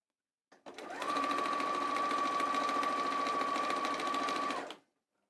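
A sewing machine stitches a linen apron in one steady, continuous run of close, loud needle strokes, starting and stopping cleanly with no talk over it.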